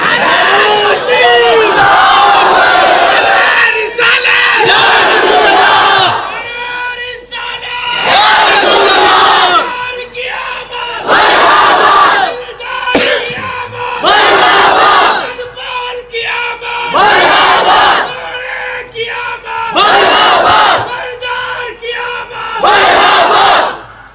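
A large crowd at a religious sermon chants slogans in loud unison, bursts of collective shouting repeating in a steady rhythm of roughly two-second calls separated by brief pauses.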